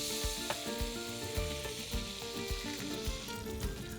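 Marlin fish frying in a pan with lime juice, giving a steady, close sizzle with crackles, pops and occasional spoon or pan knocks throughout.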